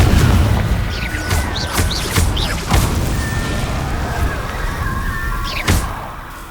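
Confringo fire spell explosions in the Hogwarts Legacy video game, a few booming blasts with crackling bursts scattered over dense game ambience, one sharp hit near the end.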